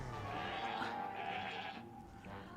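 A goat bleats in the Plants vs. Zombies Heroes card game, a wavering cartoonish bleat over game music that fills most of the short stretch.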